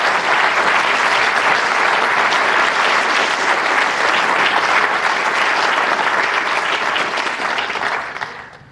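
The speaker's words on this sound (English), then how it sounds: "Please give him a round of applause." An audience at a 2024 Onondaga County State of the County address bursts into loud, sustained applause that holds for several seconds before tapering off.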